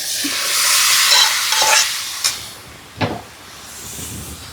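Potatoes frying and being stirred into a spiced masala in a home kitchen pan, with a steady sizzling hiss and a few sharp scraping clinks of the spoon, close and moderately loud.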